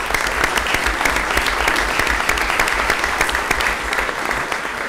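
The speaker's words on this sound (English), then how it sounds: "So I think a round of applause for Kevin goes in order" Steady audience applause for a man on his birthday, dense continuous clapping from a room full of people, moderately loud throughout.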